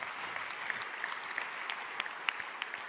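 Faint, distant applause at a prize ceremony for an eloquence competition in Nantes, with steady, even clapping from the audience and no talking over it.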